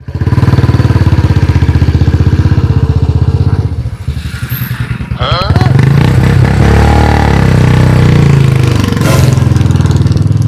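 A father's motorcycle idles loud and close with a steady throbbing engine, dips briefly, then revs up again and keeps running under raised voices.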